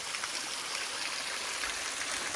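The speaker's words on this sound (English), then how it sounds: "This is a ginormous waterfall." A huge waterfall heard from its base roars as a dense, steady wash of falling water, loud and unbroken, with no voices.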